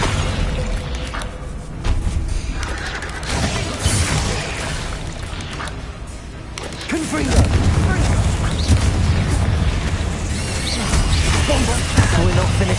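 A Bombarda explosion spell goes off in Hogwarts Legacy amid chaotic battle noise, with booming blasts and crashes building to a loud, dense rumble in the second half while a voice talks over it.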